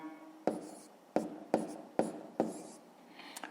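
Numbers are being written by hand with a pen on paper: five crisp scratching strokes at uneven intervals, close and soft, with no voices.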